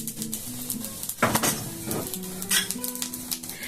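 Cumin, dried red chillies, bay leaf, cloves, cardamom and cinnamon sizzle in hot oil in a pan, with bursts of crackling and spoon clinks against the metal, close and moderately loud.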